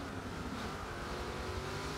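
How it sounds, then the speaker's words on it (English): Race car engine in Forza racing game screaming at high revs near the limit, a steady loud continuous roar throughout with no pauses. "as you hear Force One taking those revs"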